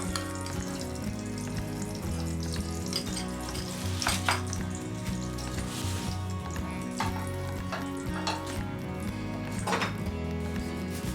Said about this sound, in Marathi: तर तूप गरम झालेला आहे आपण यामध्ये खजूर टाकून घेऊयात